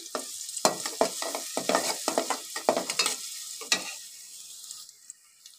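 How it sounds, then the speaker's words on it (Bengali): Chopped onion fries lightly in white soybean oil in a cooking pot, giving a soft sizzle broken by a series of stirring scrapes and clinks, close and moderately quiet. "তেলের ভিতরে পিএসটা কিছুটা হালকা ভাজা হচ্ছে"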